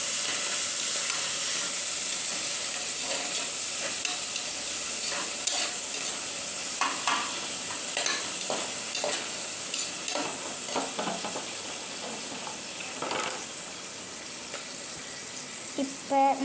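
Chopped vegetables for a mushroom biryani are stirred and fried in a pan, producing a steady hiss under repeated scraping and clattering of a spatula, with no voices.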